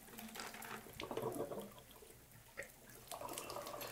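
Water trickling and splashing as it drains out of the pipes of a Moen shower/tub valve under repair, a soft, fairly faint run of drips and splashes close by.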